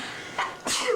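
A single sharp sneeze in a classroom, a brief intake followed by an explosive burst, close and loud, with no talking.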